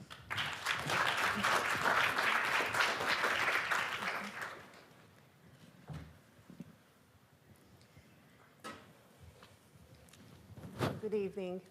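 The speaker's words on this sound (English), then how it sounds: "Round of applause, please." Audience applause for presenters walking on stage at a startup pitch night and graduation ceremony, a dense burst of clapping for about four seconds that fades into quiet room noise with scattered footsteps and shuffling.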